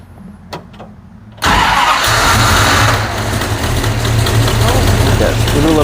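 A neglected 1969 Plymouth Barracuda cranks briefly and then catches, its engine settling into a loud, steady idle that runs on continuously, with people talking faintly nearby.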